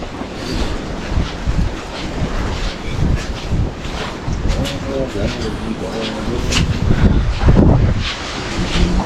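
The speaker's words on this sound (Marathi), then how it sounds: "वारा पण एकदम जबरदस्त सुटला" Strong wind buffets the microphone in a continuous, gusty roar at the Ambenali mountain ghat between Poladpur and Mahabaleshwar, with people talking under it.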